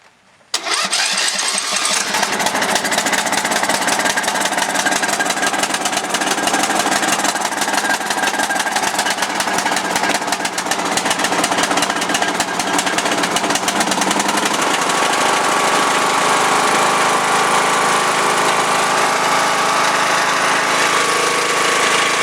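A lawnmower engine sputters into life after a brief quiet start and then runs loud and steady for about twenty seconds, a dense mechanical roar with no voices.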